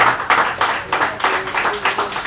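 Church congregation clapping in a regular rhythm, distinct pulses roughly three per second repeating steadily, with a faint sung or spoken tone beneath.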